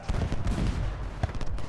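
Canister shot cannon fire booms in repeated bursts during a Civil War battle in Ultimate General: Gettysburg, a dense rumbling barrage of shots with no talk.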